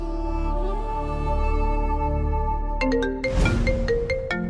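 A phone ringtone plays, tuneful electronic notes ringing steadily and clearly, with a brief rustling clatter near the end.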